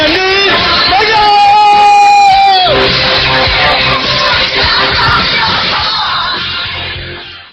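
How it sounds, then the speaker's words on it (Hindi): A crowd at an Amway business event shouts and cheers loudly alongside applause, a dense, loud wall of yelling with music-like tones that fades slightly toward the end. "जोरदार तालियों के साथ चिल्लाते हुए"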